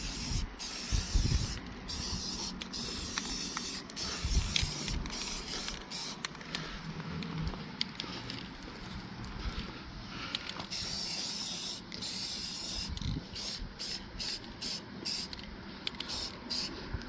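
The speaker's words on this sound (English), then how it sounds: "We're going to hit it with satin clear" Satin clear coat hisses from a spray can onto a rusty-patina SCX24 Toyota 4Runner model body in long continuous bursts broken by short pauses, close and fairly loud.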